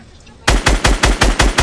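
Rapid automatic gunfire in a video game: seven loud, evenly spaced shots with heavy low-end thumps, close and rhythmic after a brief quiet lead-in.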